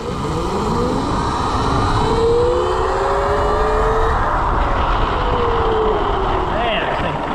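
A QS120 e-bike with a 37-tooth rear sprocket accelerates hard from a standstill to 30. Its motor whine sweeps up in pitch over loud wind and road rush.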